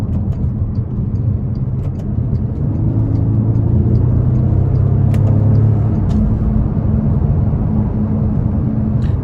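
A Bentley Flying Spur Speed's twin-turbo W12 engine hums and rumbles steadily with low, even drive noise, rising slightly in pitch midway as it pulls, with no voices.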